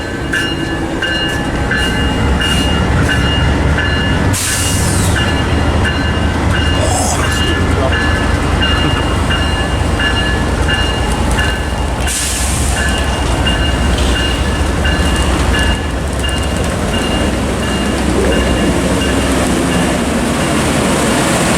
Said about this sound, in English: Here's 199 departing out of Fullerton.